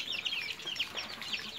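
A chicken clucks steadily in a backyard beside a river, giving a run of quick, soft, chattering clucks at moderate distance with no talk over them.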